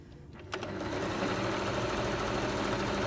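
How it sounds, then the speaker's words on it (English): A sewing machine stitching the seam of a simple drawstring bag, starting after a brief quiet moment and then running in a steady, close, continuous whir to the end. "What we do need to do though is stitch it into a bag shape"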